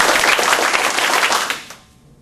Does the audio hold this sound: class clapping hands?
yes